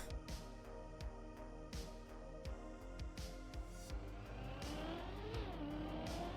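Engine of a car in Deep Dip 2 drones steadily with a rising, revving pitch, punctuated by regular sharp clicks or knocks, moderately quiet and with no talking.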